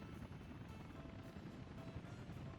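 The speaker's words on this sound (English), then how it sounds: "We'll just let the helicopters swarm in and see if we got here." Helicopters swarming in across a Workers & Resources: Soviet Republic build, a steady close rotor drone with a dense thumping beat that holds loud throughout with no talk.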